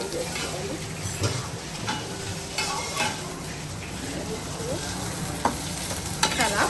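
Food frying in a pan nearby, a constant sizzle broken by irregular scraping stirs and light metallic clinks of a utensil against the cookware.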